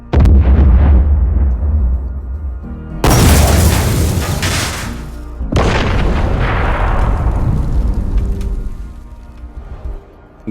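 Explosion sound effects from a pack: three heavy booming blasts, each a loud deep burst that rolls into a long crackling, rumbling decay, the second and third following sharply after the first fades, with no talking.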